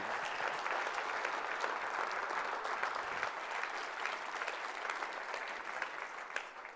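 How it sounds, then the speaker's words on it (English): Sustained audience applause at a sneaker event, an even, dense wash of clapping from a sizable crowd, steady in level and moderately distant for the full length. "I think we need to give another sneak kinda round of applause to Dwayne and the crew for making this happe"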